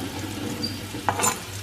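Minced keema sizzles steadily on a hot tawa with chopped onions, a continuous close frying hiss broken by a few short scraping stirs of a spoon.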